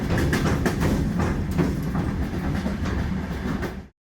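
Old locomotive-hauled passenger train in the Georgian countryside running at about 100 km/h, heard from inside the carriage as a loud, dense roar with rapid clickety-clack rail joints, cutting off abruptly at the end.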